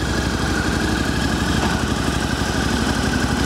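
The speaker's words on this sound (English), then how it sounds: "Runs real quiet with the factory exhaust." Harley-Davidson V-Rod Muscle VRSCF idles steadily through its quiet factory exhaust, a close, even low rumble with a constant pulse and no voices over it.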